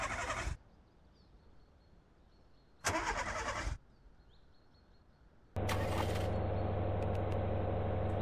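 Two brief cranking bursts are followed by a police car engine in the video game VEIN starting up and settling into a steady idle, with no talking.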